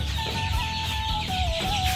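A flock of 22-day-old broiler chickens clucks steadily and continuously at close range, with a sustained tonal call running over a dense, busy barnyard murmur and no voices.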